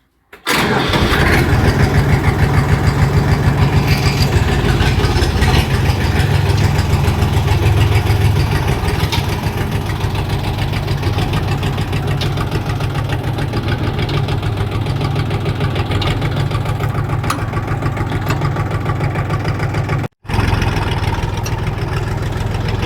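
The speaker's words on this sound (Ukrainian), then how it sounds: "Ось зараз будемо запускати його і будемо їхати" A Kentavr 244SX tractor with a KM385VT diesel engine cranks and catches at the start, then runs at a loud, steady, clattering idle close by for the rest of the clip, with one brief cut near the end.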